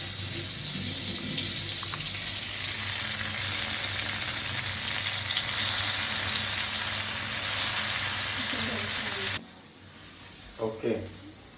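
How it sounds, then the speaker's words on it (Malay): Loud, steady sizzling of food stir-frying in hot oil in a wok while making nasi goreng, then the sizzle cuts out abruptly and a few clanks follow. "Oke, baru sekali kita masukkan ke dalam kuali."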